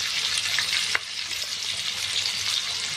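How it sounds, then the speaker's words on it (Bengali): Chopped tomato and two green chillies fry in oil with whole cumin and a dried red chilli, giving a steady, close sizzle with a single clink of a utensil partway through. "ভালো করে ভেজে নেব"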